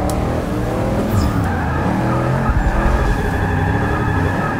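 A rear-wheel-drive VL Commodore on drag tires drifts in Forza 6 during an online lobby, its tires skidding and squealing over a steady, loud engine roar that holds throughout.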